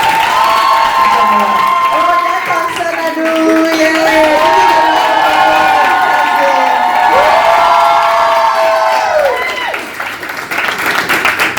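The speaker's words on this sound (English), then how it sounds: "Please give them a round of applause." Audience applause and cheering for the people being thanked at a young women's inspiration event, a steady loud crowd roar with whoops, while a voice calls out excitedly over it and a melodic tone runs through.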